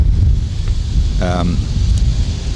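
Steady gusting wind roars across the microphone throughout, with a short burst of a voice rising briefly above the rumble.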